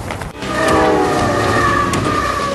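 The T-27 passenger train from Beijing to Lhasa rumbles loudly along the track on the high Tibetan plateau, a steady close roar with a tonal horn-like hum over it.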